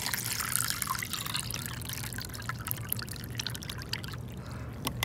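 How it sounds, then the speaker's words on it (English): Water is poured onto a tray of earth in a classroom erosion model, making a soft continuous trickle and pour with small splashes, faint and close, with no speech. "here is, I'm pouring the water."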